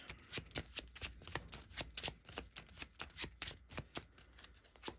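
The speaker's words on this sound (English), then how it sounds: "I feel like I'm going to shuffle these three back in again." Playing cards from a Cthulhu-themed investigator card game are shuffled by hand, a rapid series of crisp, close snapping riffles and slaps in uneven bursts, with no speech.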